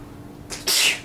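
A single sharp sneeze bursts out close by after a brief soft intake of breath, loud and short against a quiet room.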